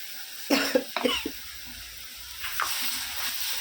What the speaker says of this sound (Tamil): தேவையான அளவு தக்காளி அரைச்சி வச்சுருக்கேன் அதை கொட்டிடணும்